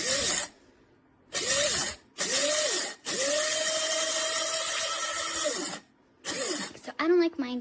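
A Kaffè Kaffe One-Touch electric coffee grinder runs in loud short pulses, then holds one longer steady whirring grind before stopping, followed by a few more quick bursts and a rattle near the end.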